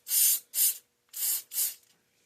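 A spray can mists a product onto a car in four short hissing bursts, two quick blasts, a pause, then two more, close and fairly loud with no talking.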